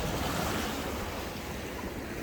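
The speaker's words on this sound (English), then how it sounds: "You can see the Irish Sea gently moving away now from these steps that you can see it stroking." Irish Sea water lapping gently against seafront steps on a clear morning with a slight wind, a steady close wash of surf and wind noise running evenly throughout with no voices.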